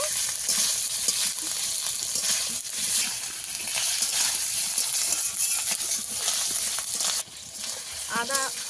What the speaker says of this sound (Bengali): আদা আর আলু কিছুক্ষণ আমি ভেজে নিয়েছি